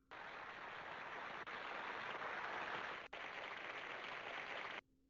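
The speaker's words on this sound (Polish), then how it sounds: "Serdeczne brawa dla wszystkich, którzy tę uroczystość prowadzili." A crowd at an official ceremony applauds in a dense, even wash of clapping that holds steady for nearly five seconds before cutting off abruptly.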